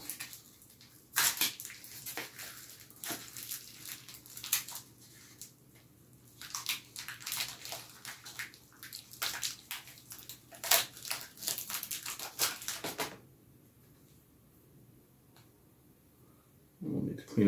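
A two-part platinum silicone mold being folded open and peeled off a half-egg casting gives repeated squishy, crinkly peeling and tearing bursts at close range, irregular and clustered, with quieter pauses between and a lull near the end.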